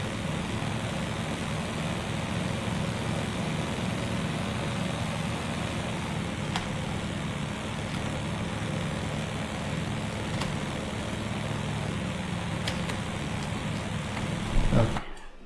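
Unreal Engine 5 Chaos simulated vehicle engine droning steadily through a long drive, a dense even rumble that swells into a brief louder burst near the end, with no voices.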